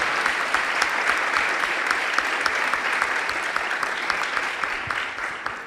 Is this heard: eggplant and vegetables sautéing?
no